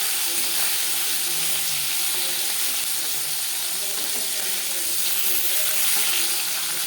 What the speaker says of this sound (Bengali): একটা সাইড ভাজা হয়ে গেলে অপর সাইডটা উল্টে দেবো